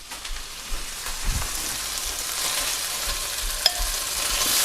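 Beef browning in a pan for a Greek stifado, a steady sizzle and crackle of frying meat with a few stirring scrapes, close and moderately loud.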